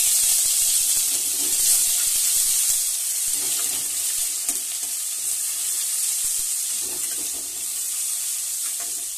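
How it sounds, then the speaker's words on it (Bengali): Garlic paste hits hot oil already frying bay leaves and dried red chillies for a Bengali chicken kosa, giving a loud, steady, close sizzle that hisses on without a break. "তো এবার আমি রসুন বাটা যেটা আছে সেটা ঢেলে দেবো এর মধ্যে।"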